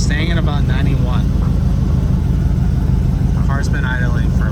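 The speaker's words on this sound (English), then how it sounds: "The car's been idling for about 5 minutes now." A car engine idling steadily with a constant low rumble, loud and close, while someone speaks over it.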